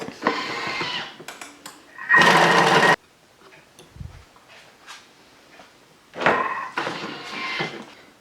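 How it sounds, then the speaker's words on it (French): A Thermomix blends chorizo, cheese spread and fresh parsley in short loud bursts. A strong one lasts about a second near the middle, with other whirring spells before and after and quieter clatter between them. "Et là on va mixer 30 secondes, vitesse 6."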